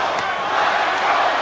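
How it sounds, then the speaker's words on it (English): A boxing crowd at the 1991 James Toney vs Michael Nunn IBF middleweight title fight chanting Michael, heard as a dense, steady arena roar that holds level throughout without clear breaks. "Crowd chanting Michael behind us now."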